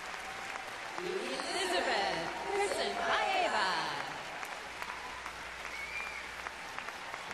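Audience applause for a figure skating short program by Elizabet Tursynbaeva at Team Challenge Cup 2016 fills the arena, a broad wash of clapping that swells and fades with a commentator speaking over it and a skater's name announced.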